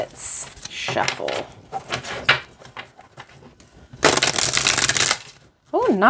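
A deck of oracle cards with moderately thick cardstock is shuffled by hand, giving short papery riffles and rubbing, with a longer burst of rapid flicking near the end.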